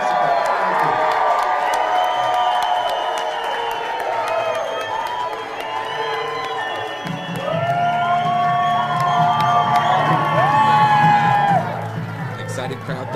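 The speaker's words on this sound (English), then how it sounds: "Excited crowd there, welcoming the victory there tonight from the GOP candidate, Mark Ronchetti" Excited crowd at a primary election night victory rally for a New Mexico gubernatorial candidate, cheering, whooping and shouting continuously and loudly, with voices and sustained cries rising near the end.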